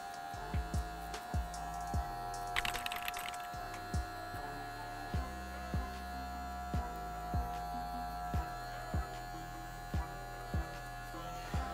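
A hair clipper hums steadily close by, with a faint tone and regular soft taps as it runs through the hair and the comb.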